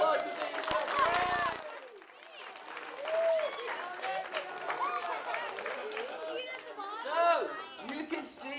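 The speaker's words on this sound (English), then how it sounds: "Give him a round of applause for being so brave" An audience claps and cheers for a brave young volunteer at a live electricity demonstration, a moderate wave of applause with chatter and children's voices mixed throughout, one clap right up close.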